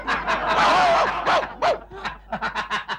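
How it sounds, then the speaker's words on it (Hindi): A quick run of high, yappy dog barks, about a dozen in a rising and falling rhythm, close and fairly loud. "ये तो कुत्ते की आवाज ही है"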